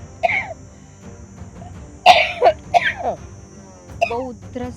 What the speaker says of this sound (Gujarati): બહુ ઉધરસ થઈ ગઈ છે